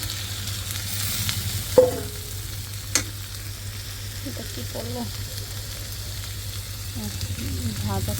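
Tomato frying in a pan with onion, a steady close sizzle under occasional scraping stirs and a couple of sharp knocks of a spoon, with brief soft voices in the background.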